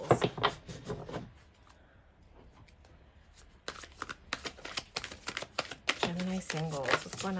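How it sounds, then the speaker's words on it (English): Tarot cards shuffled in a riffle-style burst, a short flurry at the start and then a longer run of crisp, rapid card flicks, close and fairly loud, with a pause in between. "we're gonna shuffle one more time"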